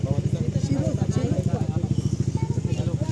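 Motorcycle engines puttering close by on a road in Dingalan, a steady rapid pulsing throb that continues throughout.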